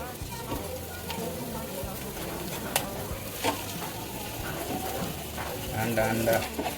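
Egg bhurji with masala and turmeric frying and being stirred in a pan, soft continuous sizzle with scraping strokes, while someone talks over it in Marathi.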